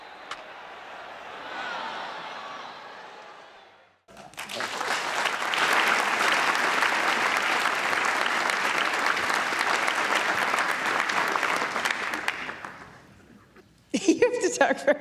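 A baseball stadium crowd bursts into sustained applause and cheering, loud dense clapping lasting several seconds, framed by quieter narration before and a brief voice after.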